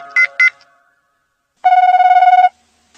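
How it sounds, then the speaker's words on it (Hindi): A phone rings with two quick electronic chirps, then a longer steady trilling ring in an otherwise quiet room. "फोन पर बेल तो जा रही है। बज रहा है।"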